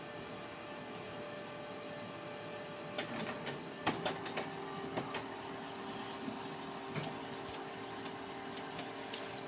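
Canon i-SENSYS MF8280Cw colour laser printer running a copy job, a steady mechanical whir with a scattering of sharp clicks and clunks from the feed rollers, fairly quiet and close, no talking.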